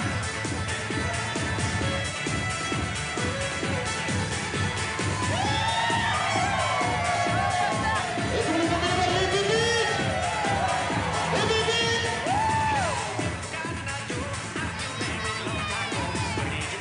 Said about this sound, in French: On peut les applaudir, nos amis les mariés, très très fort